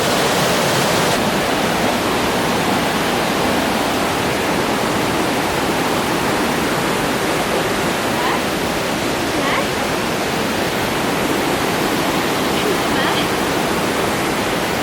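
A river in Snowdonia pours over a waterfall, a loud, steady, unbroken rushing roar that fills the whole stretch with no pauses.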